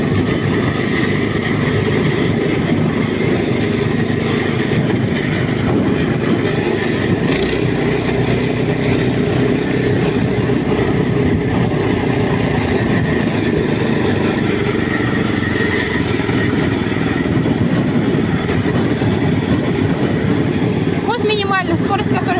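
Vehicle engine rattling while driving in third gear on a trip to the forest for firewood, a loud continuous engine drone with rattling from outside the engine, heard from inside the cab, with someone talking throughout.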